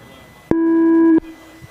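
A single electronic start tone sounds for an RC scale-spec car race, a clean, steady, loud beep lasting under a second over quiet background noise.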